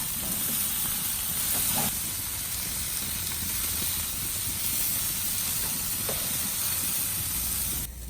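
Beef seekh kebabs sizzling on a grill, a steady loud hissing sizzle that runs throughout, with a few faint knocks as the kebabs are flipped.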